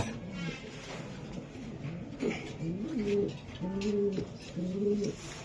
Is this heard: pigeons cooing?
yes